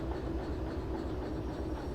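A locomotive rolls slowly onto a siding in the train game Derail Valley, a steady low rumble of wheels on rail with a faint rhythmic clatter, continuous and without speech.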